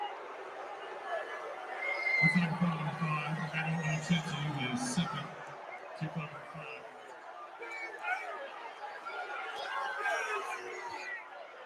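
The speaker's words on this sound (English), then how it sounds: "And this crowd is upset." Basketball arena crowd at a Saint Mary's vs Gonzaga WCC Tournament game groans and murmurs in displeasure after a foul call. Low babble swells and then settles into scattered chatter under an announcer's commentary.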